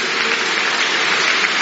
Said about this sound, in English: Let's really clap.